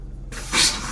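Cold water runs from a bathroom sink tap: after a short quiet moment a steady, close hiss of flowing water starts and continues to the end, with no voices.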